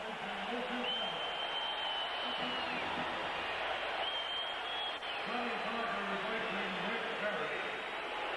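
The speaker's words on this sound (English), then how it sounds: "Listen to the round of applause for Kareem Abdul-Jabbar." An arena crowd at a 1977 Warriors–Lakers playoff game gives Kareem Abdul-Jabbar a sustained round of applause, a distant, even roar of clapping heard under a broadcaster's voice.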